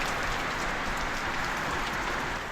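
Rain pours steadily off a rain gutter, a dense, even wash of splashing water close by, continuous and fairly quiet with no voices.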